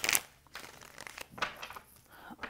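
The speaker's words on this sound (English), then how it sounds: "One more good shuffle here." A deck of tarot cards is shuffled by hand, giving soft papery riffles and rustles in a few bursts, close and fairly quiet.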